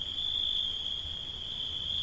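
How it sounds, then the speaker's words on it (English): Greengrocer cicadas in the Blue Mountains near Sydney call in a steady, unbroken high-pitched drone that holds evenly throughout over faint low background noise. "cicadas are insects famous for their loud calls"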